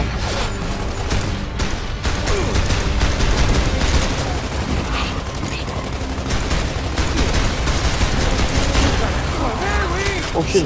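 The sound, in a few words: gunfire in video game Gears of War 2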